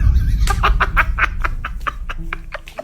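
A chicken clucks in a rapid series of short, close calls over a low rumbling background.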